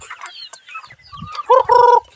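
Backyard chickens cluck and call at feeding time, a burst of rising squawks and clucks building to loud, close calls near the end, with no talk.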